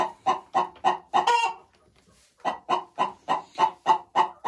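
A two-year-old Lohmann Sandy hen clucks in a quick, even series of short clucks, close and clear, with a brief pause partway before the steady rhythm resumes.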